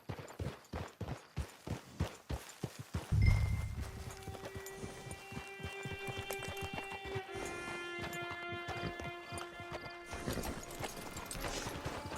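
Horse hooves clip-clop in a steady, close rhythm in a video game, with a brief whinny and sustained musical tones joining partway through.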